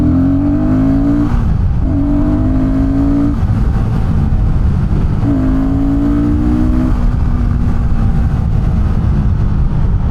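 A Royal Enfield Guerrilla 450 motorcycle engine drones steadily at low to mid revs while riding, loud and close, its pitch rising and dropping a few times with throttle and gear changes.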